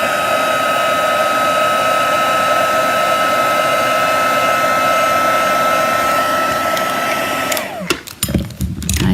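A heat tool blasts hot air over a watercolour spritz on card, a loud, steady high-pitched whirring roar that holds for several seconds, then cuts off and winds down with some handling noise.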